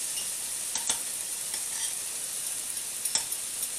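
Beef, chicken and bacon stir fry sizzles in a hot saucepan, a steady bright frying hiss with a few sharper crackles and pops, close and alone.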